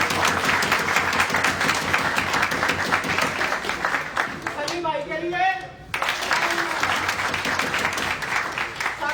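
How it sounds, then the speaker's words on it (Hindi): Applause from a large seminar audience at a Pakistani e-commerce training event, steady dense clapping throughout with someone speaking over it through a microphone. "तो पहले तो पाकिस्तान के लिए तालियां"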